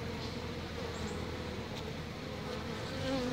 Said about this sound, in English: They acted mean to her, most of the bees.